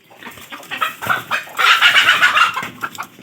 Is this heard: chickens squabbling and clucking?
yes